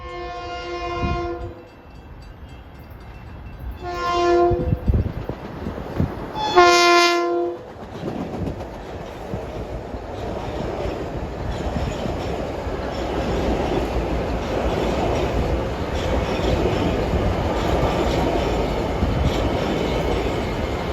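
A Long Island Rail Road commuter train on the Ronkonkoma Line sounds its horn in three loud blasts, then rumbles steadily past with clattering wheels that hold a dense roar to the end.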